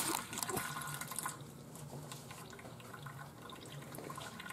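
Coolant drains slowly out of a John Deere tractor during a coolant change, a faint continuous trickle and splash of liquid with a slightly louder stretch at the start.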